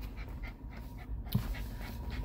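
A dog pants in quick, rhythmic breaths throughout, fairly quiet and close, with no talking.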